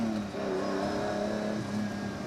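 Lamborghini Countach 25th Anniversary with its 5.2-litre V12 engine, a loud, continuous mechanical roar heard close up and on its own, with no voices.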